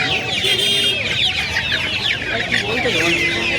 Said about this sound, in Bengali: এগুলো সোনালি মোরগ সোনালি মোরগ এগুলো আর হাইব্রিড মুরগি আর হাইব্রিড মুরগি আছে